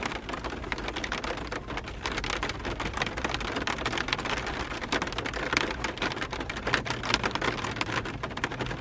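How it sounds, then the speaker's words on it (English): Steady rain falls outside, a dense, even patter of drops striking surfaces nearby, continuous and moderately loud with no voices. "So I'll give you a little bit of rain ASMR."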